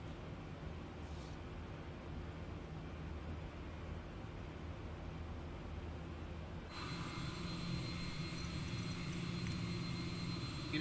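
Steady jet engine roar from an airliner taxiing in a flight simulator game, a continuous broadband hum that grows brighter and louder partway through as thrust builds, with no talk over it.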